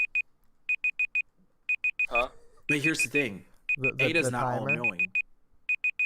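A timer alarm beeps in quick bursts of four evenly spaced high tones, repeating steadily throughout while people talk over it in the middle.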